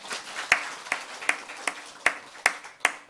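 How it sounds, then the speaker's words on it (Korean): A small church congregation claps at a Sunday worship service, with sparse, distinct claps at a slow, fairly regular beat and quiet stretches between them. "박수 한번 쳐주세요"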